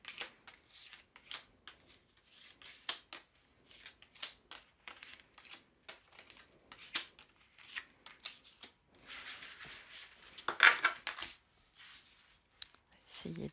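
Tarot cards laid out one by one into a nine-card oracle spread on a table, with close, irregular crisp slaps, flicks and paper rustles, busier toward the end.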